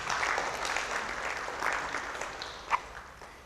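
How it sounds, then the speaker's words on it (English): An audience at a malaria media event gives a round of applause, a steady, soft wash of clapping heard from a distance, tapering slightly toward the end. "May we give them a round of applause, please?"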